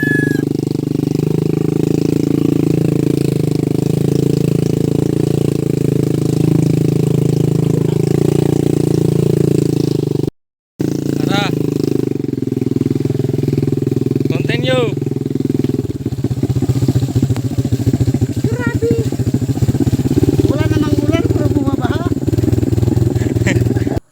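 A Honda motorcycle crawls over large rocks on a rough trail, its engine droning loud and steady with revs and rattles, while a rider talks over it throughout.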